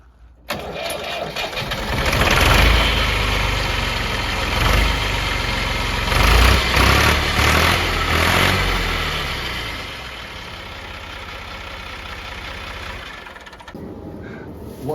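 A farm tractor engine cranks and catches, then settles into a loud, steady idle close by, running on for several seconds before cutting off near the end.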